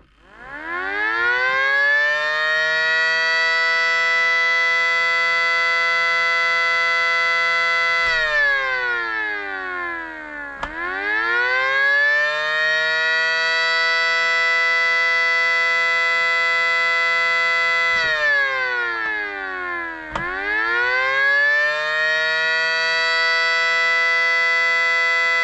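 A revamped miniature SD-10 siren wails in short attack cycles, three rising-and-falling whoops, each spinning up quickly to a loud sustained howl before dipping and climbing again, close and alone.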